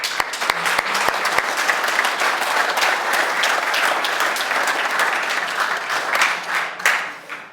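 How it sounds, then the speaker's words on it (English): A conference audience at a network automation event in London applauds a speaker, with dense, sustained clapping from a full room that holds steady and then tapers off at the end. "Big round of applause for Steve"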